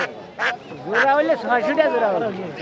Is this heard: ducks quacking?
yes